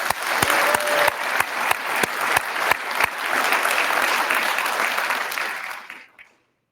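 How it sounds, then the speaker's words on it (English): Audience at an Air Force cyber change-of-command ceremony gives a chief sustained applause, many hands clapping steadily with a few loud close claps, then quickly fading to silence. "One more round of applause for Chief Hopkins."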